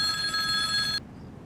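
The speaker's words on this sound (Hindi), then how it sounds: "अरे फोन बज रहा है, कोई तो सुनो।" A telephone bell rings steadily inside a home in a Pakistani drama, a bright continuous trill that cuts off abruptly after about a second, leaving quiet room tone.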